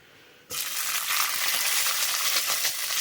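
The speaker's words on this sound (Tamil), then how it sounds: "இப்போ எண்ணெய் வந்து நல்லா சூடாயிருச்சு. நான் பார்த்தீங்கன்னா வெங்காயம் வந்து போட்டுக்கிறேன்." Onion is dropped into hot oil in a pan and at once bursts into a loud, steady sizzle that holds up close and unbroken after a quiet start.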